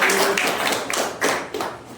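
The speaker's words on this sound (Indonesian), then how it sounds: "Aplaus untuk kelompok 4." A small group in a classroom gives group 4 a short round of applause, with a few loose, uneven claps that fade out within about two seconds.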